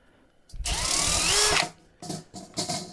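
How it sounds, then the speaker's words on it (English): A power drill whines loudly for about a second, then two shorter bursts follow as it bites in, close and alone. "So I will pre-drill all the holes."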